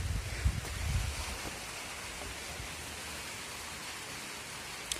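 Light rain begins to fall outdoors in sunny weather, a faint, steady hiss of drops with a few soft low thumps at the start.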